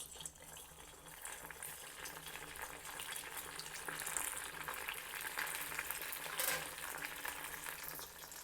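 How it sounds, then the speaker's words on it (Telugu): Small button idli deep frying in hot oil in a home kitchen, a continuous close bubbling sizzle that swells slightly louder partway through, with no voices. "ఇలా ఆరిన ఇడ్లీని మనం డీప్ ఫ్రై చేసుకోవాలి."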